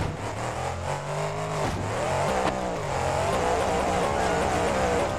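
Monster truck engine in the driving game BeamNG, oddly tuned, revving loudly and continuously with rising and falling pitch as the truck accelerates, alone without talk.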